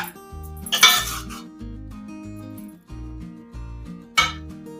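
A metal spoon stirring pulao in a pot gives scraping clinks and a few sharp knocks against the rim, in short bursts between quiet stretches of a low humming background.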